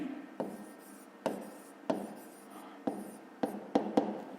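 A pen scratches out a fifth-grade maths solution by hand, quiet close-up strokes on paper with sharp onsets every half second or so, clustering faster near the end, without speech.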